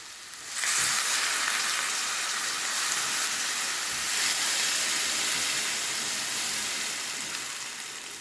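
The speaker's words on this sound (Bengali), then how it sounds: "এবারে একটু গরম জল দিয়ে দেবো।" Hot water poured into a pan of cucumber shukto with lentil dumplings erupts into a loud, sustained sizzle and steamy hiss that starts abruptly and stays strong close up, with no talking.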